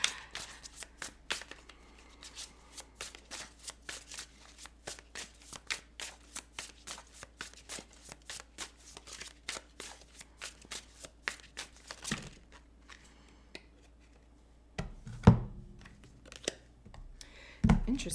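Tarot cards shuffled in repeated rapid riffles, close and crisp, with quieter handling and a few soft thumps near the end.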